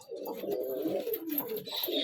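Several pigeons coo softly in overlapping low, throaty murmurs, a close, continuous burbling with faint rustles and chirps in the background.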